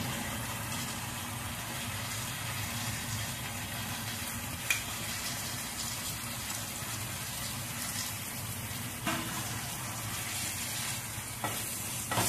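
Chicken pieces sizzle steadily in a hot pan for a chicken bharta, a soft, even hiss broken now and then by the light scrape and clink of a stirring spoon.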